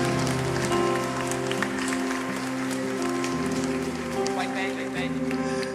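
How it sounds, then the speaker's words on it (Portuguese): A congregation at a worship service claps in steady, rain-like applause. Music and voices mix in underneath. "uma salva de palmas ao nosso Deus."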